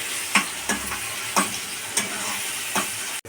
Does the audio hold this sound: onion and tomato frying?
yes